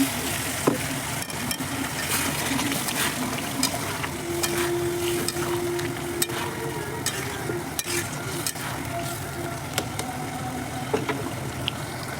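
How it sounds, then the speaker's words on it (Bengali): A potato and egg curry sizzles and bubbles steadily in the pan as a little hot water goes in, a close, continuous frying hiss with scattered stirring clicks and knocks, no talking. "এই যে গরম জল দিয়ে দেবো বেশি দেবো না অল্প করে দেবো"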